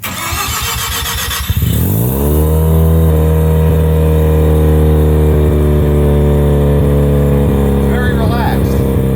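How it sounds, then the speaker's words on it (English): A Mazda RX-7 FD with a bone-stock Mazda rotary crate engine cold-starts, cranking briefly before catching and settling into a loud, steady high idle that holds close up, with faint voices over it. "Cold started revs a little high."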